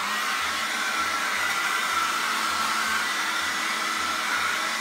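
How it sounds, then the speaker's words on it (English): Hair dryer blowing steadily at close range while drying paint during an abstract painting session, a continuous loud whooshing roar with a faint pulsing low hum, no talk. "Let me get the hair dryer going here."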